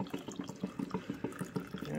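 Caramel vanilla cream coffee is poured into a mug with a rhythmic glugging splash, repeated pulses close up, with no talking over it.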